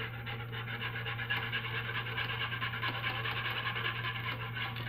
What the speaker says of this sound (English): And I'm just whisking that together.